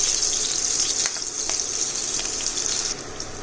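Green chilies sizzling in hot oil for a chapati chiwda, a steady loud hissing crackle that fades slightly near the end.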